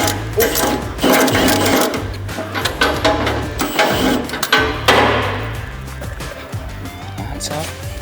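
An impact wrench drives a bolt on a MUSKOX 24-series snowblower during flow regulator installation, giving a loud, close, continuous rapid hammering rattle that runs the whole time with only slight pauses.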